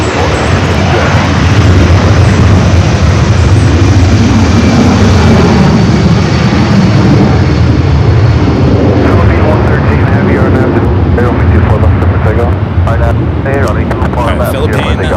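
An Austrian airliner's jet engines rumble at LAX airport, a loud, steady roar that fills the whole stretch, with a voice talking over it.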